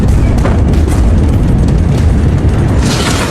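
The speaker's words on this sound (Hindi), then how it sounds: "ऐसा धमाका जिससे धरती हिली, आसमान जल गया, समंदर का पानी खौल उठा" A massive explosion booms loudly and continuously, a dense low roar of blast and rumble filling the short stretch without letup.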